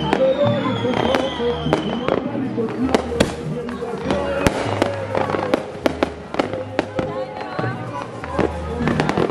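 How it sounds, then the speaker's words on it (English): New Year fireworks and firecrackers banging nearby in a rapid, irregular string of sharp cracks and pops, with people talking and calling out over the blasts. "Well, ahí estamos firework."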